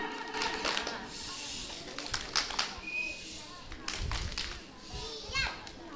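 Kindergarten children at TK Varistha Kidz perform the tepuk diam clapping chant, with short bursts of rhythmic claps between lively children's voices and chatter in a room.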